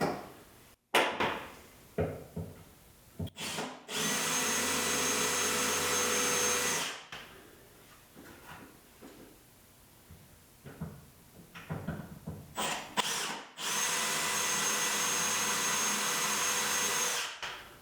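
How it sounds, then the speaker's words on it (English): A drill cuts out spot welds on a damaged, bent metal panel in a shop, with two sustained whining bursts of several seconds each, separated by quieter scraping and handling noises. "Sometimes it's hard to drill it because the metal will be bent around the spot weld."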